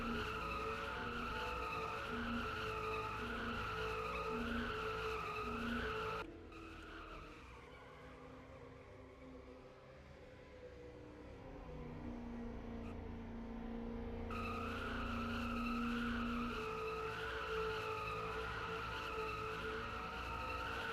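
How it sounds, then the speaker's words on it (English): A race car at Auto Club burns out after an MRL Summer Series race, its engine howling with harmonic tones and tire squeal, dipping briefly midway before the loud, sustained roar returns. "He continues to burn this one down."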